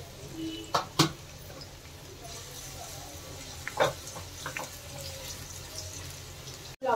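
Vegetables, cashews and raisins fry in ghee with a soft, steady sizzle, broken by a few sharp clinks and scrapes of stirring close by.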